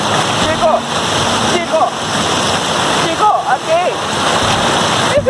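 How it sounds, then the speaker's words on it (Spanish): A swollen river, high after a week and a half of rain, rushes in a loud, continuous roar close by, with a person briefly speaking over it. "Una semana y media y mira cómo está el río."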